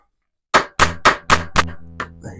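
A massive, heavy, lumpy hammer taps a part of a James Bond DB5 model car with five sharp, evenly spaced metallic strikes, then two lighter taps, close and ringing.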